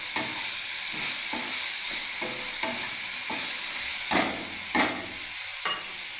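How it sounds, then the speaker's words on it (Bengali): A spoon stirs a mustard and poppy seed paste curry frying in a pan, the steady sizzle broken by regular scraping strokes about every half second, close up and with no talking. "দেখ, এবার আমি নাড়তে থাকবো।"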